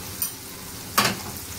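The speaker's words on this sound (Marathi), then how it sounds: "छान असा मसाला आपण 1 मिनिट तेलामध्ये परतून घ्यायचा आहे" Turmeric and spices hitting hot oil for a prawn curry after ginger-garlic paste has been sautéed, a faint steady sizzle broken by two short stirring scrapes, the second louder.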